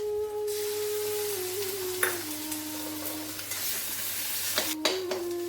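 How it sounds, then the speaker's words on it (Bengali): Ginger garlic paste fries with browned onions in a pan, giving a steady close sizzle with a few scraping stirs, over a faint background tone and with no speech. "এইবারে এর মধ্যে 1 চামচ আদা রসুন বাটা দিয়ে দেবো, পেস্ট।"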